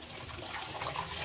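A tap runs water in a steady, close gush, a continuous splashing flow that lasts the whole brief moment with no voices over it.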